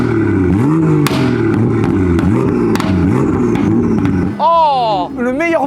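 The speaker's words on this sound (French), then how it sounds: "Écoute-moi le bruit parce que celle-là, elle a une ligne d'échappement mon copain." A BMW M2 fitted with an aftermarket exhaust burbles and pulses in repeated rev swells nearby, then climbs sharply in a couple of quick, rising revs near the end.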